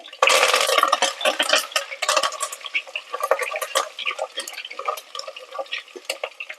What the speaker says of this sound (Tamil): இப்போ தட்டி வச்சிருக்கிற பூண்டை சேர்த்துக்கலாம் கூடவே கொஞ்சமாக கருவேப்பிலை